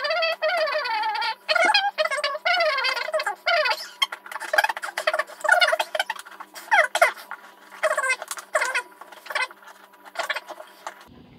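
Voice played back in fast-forward, a rapid chipmunk-like chatter of sped-up syllables and squeaky bursts running nearly continuously, fairly quiet.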